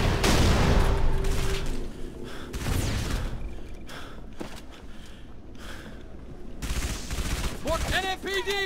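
Sustained gunfire in the video game Halo ODST, with dense rapid bursts and heavy blasts rolling continuously, voices shouting over the battle.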